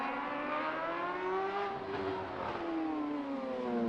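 A racing motorcycle at the Macau Motorcycle Grand Prix, held in second gear on a street circuit, with a sustained, fairly faint high-pitched engine whine rising and falling smoothly, heard from a distance.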